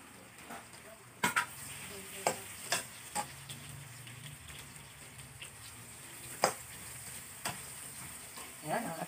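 Chopped onions and garlic frying in a pan, a steady close sizzle broken by sharp clicks and scrapes of a utensil stirring them at irregular intervals, with no voices.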